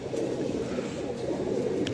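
Low, soft cooing of five pigeons fills the short stretch, a steady murmuring warble close by.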